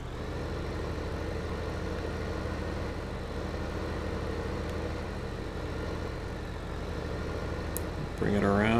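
A tractor engine in Farming Simulator 15 runs at a steady, loud, low idle for about eight seconds, then starts up and revs with a rising tone at the end.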